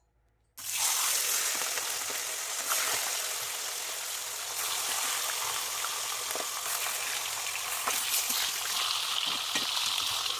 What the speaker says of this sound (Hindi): मछली माता फ्राई कर रही हूँ मैं, तेल गरम हो गया।